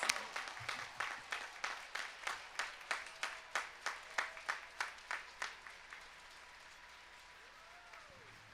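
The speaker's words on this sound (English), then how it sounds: "give yourselves a big round of applause" Graduates at a university commencement ceremony applaud in a steady run of rhythmic claps heard from a distance. The clapping fades out after about six seconds, leaving a quiet room.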